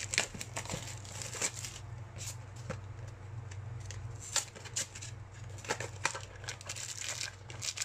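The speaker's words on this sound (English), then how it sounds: "I wonder if we can just rip right into the plastic." Plastic wrap on Magic: The Gathering Double Masters VIP booster packs is torn and crinkled open in close, irregular bursts of crackling over a steady low hum.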